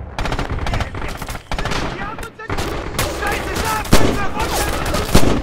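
Sustained bursts of machine gun fire in the World War II shooter Red Orchestra 2, loud and close, with rapid rattling volleys and sharp individual shots overlapping across the whole stretch.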